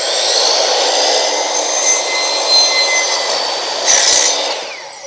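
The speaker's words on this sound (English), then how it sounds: "I'm going to use the miter saw to cut it exactly at 3 inches" Miter saw cutting a 3-inch piece, a loud close motor whine with the blade biting through, rising slightly mid-cut and swelling again near the end before spinning down.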